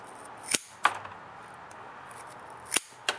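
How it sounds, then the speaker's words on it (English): Several sharp, crisp snips of scissors cutting through rubber fuel line of 5/16-inch inside diameter, spaced irregularly in otherwise quiet surroundings, close up. "I've been using them to cut fuel line with ease"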